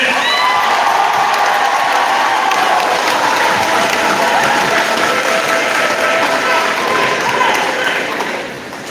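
A school homecoming assembly crowd applauds and cheers a Hall of Fame inductee, loud and sustained, with whoops and children's shouts mixed into the dense clapping before it tapers off at the end.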